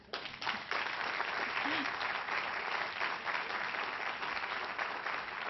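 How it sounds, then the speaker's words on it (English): An audience at a forum on Ohio's prescription drug ballot issue applauds the arriving panel of journalists and representatives, sustained even clapping from a moderate distance, rising quickly and holding steady. "We can applaud now."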